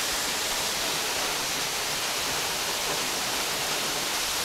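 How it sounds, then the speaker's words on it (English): Cucumber Falls in Ohiopyle State Park, southwestern Pennsylvania, pours in a steady, dense broadband roar of falling water, close and unbroken for the whole stretch with no voices over it. "First stop is this incredible waterfall."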